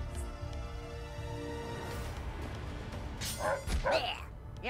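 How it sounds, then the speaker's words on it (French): Dogs barking and yipping in the video game South Park: The Fractured but Whole, a few sharp barks and whimpers late in the moment over a low game soundtrack hum, with a voice talking faintly underneath. "Je vais essayer de pas taper les chiens."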